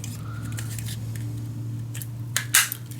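Scissors cut paper pieces for a steampunk mini album in a few short, crisp snips close to the microphone over a steady low electrical hum, with the loudest snip near the end.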